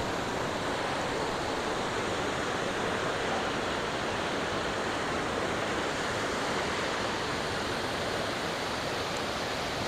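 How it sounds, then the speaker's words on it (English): A waterfall near 2000-year-old ruins gives off a dense, constant roar of rushing water, loud and close, steady from start to finish with no voices. "Right up by the waterfall."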